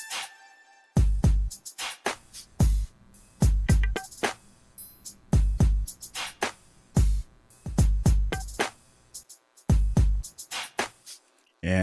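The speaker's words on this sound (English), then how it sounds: "So altogether, every drums together will create some type of bouncy effect," Bouncy hip-hop drum beat in a 2000s swag style with punchy kicks and snares, triangle hits and open hi-hats, swung about 20 percent, with reverb and panning, playing loud in a steady loop with no talking.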